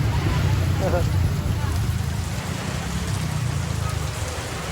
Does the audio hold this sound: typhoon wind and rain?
yes